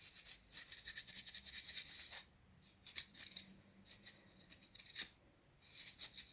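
A damp toothbrush scrubbing verdigris off old jewelry, giving close, rapid bristly strokes in quick rhythmic bursts with a brief pause, then more scrubbing; no talking.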